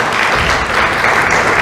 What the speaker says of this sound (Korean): 우리 하나님 앞에 영광의 박수 다시 한번 올려드리겠습니다.